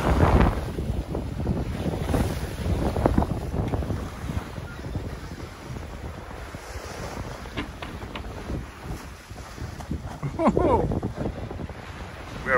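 A sailboat runs wing and wing at sea between Atlantic islands, with steady gusting wind buffeting the microphone, rushing water and waves along the hull, and a voice talking beneath.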